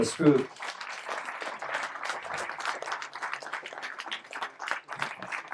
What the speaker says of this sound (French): je vous remercie de les applaudir comme il se doit